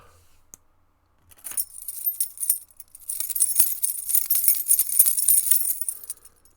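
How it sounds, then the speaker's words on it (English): A bunch of keys jangles up close in two bursts of bright metallic rattling and clinking, a short shake followed by a longer, busier one, with no voices. "Jangle the keys."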